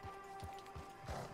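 Rhythmic horse hoofbeats in Red Dead Redemption 2 clop at a steady trotting pace over a constant tonal hum, fairly quiet and without speech.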